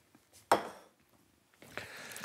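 A knife slicing through carrot and cucumber on a kitchen board gives a sharp close chop, then a few lighter cuts a second later, with quiet pauses between.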